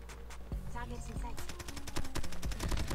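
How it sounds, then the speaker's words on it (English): Rapid gunfire from a close-range weapon in Call of Duty Mobile, dense bursts of sharp shots that quicken into a steady rattle through the final second and a half. "Where are my shots going?"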